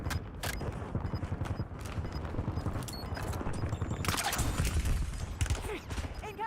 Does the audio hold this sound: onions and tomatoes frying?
no